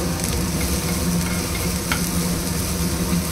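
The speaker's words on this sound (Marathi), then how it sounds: "ऑइलमध्ये बारीक कट केलेला लसूण आणि आलं घालते आहे." Finely chopped garlic and ginger fry in hot oil in a pan. The sizzle is loud and dense, with stirring and crackling throughout and one sharper spatter near the end. No one speaks.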